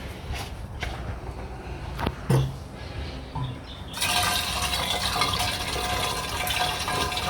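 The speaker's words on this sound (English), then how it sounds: "So what I'm going to do is pour some hydrochloric acid in." Hydrochloric acid poured into a container while processing gold-plated BGA chips, a steady liquid gush starting partway through after some soft handling clatter.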